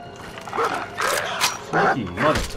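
Dogmeat, the dog companion in Fallout 4 Survival mode in Far Harbor, lets out several short agitated barks and growly yips in quick bursts, close and fairly loud, with game voices and ambience mixed around them.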